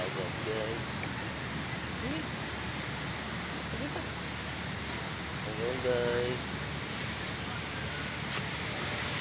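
Sea waves wash on a beach as a constant, soft broadband surf roar, faint and distant-sounding, with brief bits of casual talk over it.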